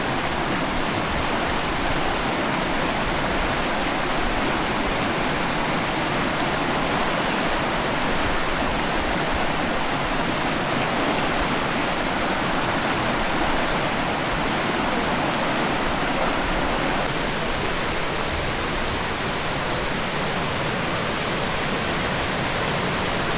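A waterfall on a creek pours in a constant, dense, hissing roar, steady and unbroken throughout, with no voices.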